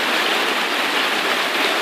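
Fast-flowing stream water rushing steadily, a loud, dense, continuous wash of noise close by with no voices.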